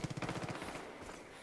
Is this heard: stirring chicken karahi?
no